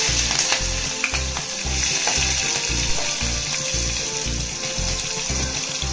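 Green chillies and onions frying in oil in a pan for khichdi, a steady close sizzle with light stirring scrapes throughout, no voices.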